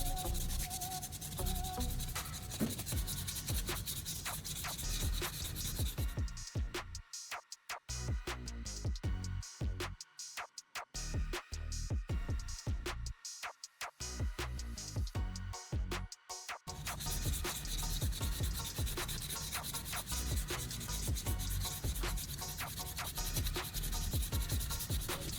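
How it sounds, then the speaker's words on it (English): Sandpaper rubbing hard across the back of a CD to strip its reflective data layer, a steady dry rasping scrape that runs continuously and loudly with short stuttering gaps midway. "I'm using a piece of sandpaper to rub off the reflective data layer from the back of the CD."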